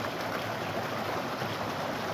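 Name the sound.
waterfalls in a stream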